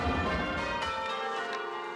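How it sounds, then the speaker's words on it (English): Church bells rung by teams pulling ropes in a British bell tower clang together loudly and close, with sustained ringing overtones. "Some of these folks have been ringing bells for over 50 years."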